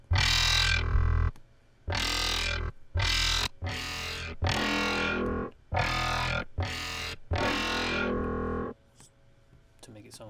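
Heavy, distorted synth bass made in Logic blasts in short rhythmic bursts with gaps between them, gritty and loud, fading into quiet at the end.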